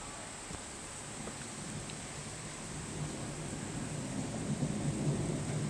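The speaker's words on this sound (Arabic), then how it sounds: "الرعد قوي جدا النهارده، والشتا كمان" Thunder and rain during a storm heard from indoors, a low rumbling that slowly swells and grows louder over a steady hiss of rainfall.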